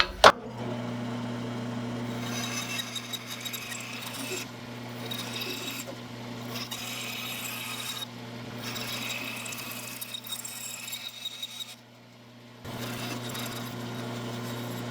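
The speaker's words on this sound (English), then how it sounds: "Let's get this on the bandsaw." Bandsaw cutting a balsa wood jerkbait blank, a steady close humming drone with rasping cut noise that runs almost continuously, briefly dropping out near the end before resuming.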